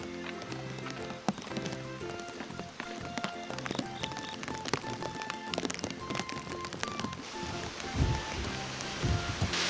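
Steady rain patters down over a mountain stream in a valley at dawn as a typhoon approaches, a dense, even hiss running throughout with a few heavier spatters near the end.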